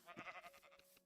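A single short, wavering bleat from a sheep in a blocky Minecraft-style game, fairly faint and heard on its own.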